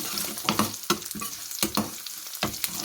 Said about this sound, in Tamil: கொஞ்சம் வெந்தயமும் போட்டுட்டு வதக்குவோம்